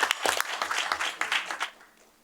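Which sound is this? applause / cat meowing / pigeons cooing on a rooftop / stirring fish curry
applause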